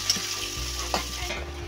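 Onions and cumin frying in hot oil for a home-style chicken biryani, a steady close sizzle with a few stirring clinks and scrapes.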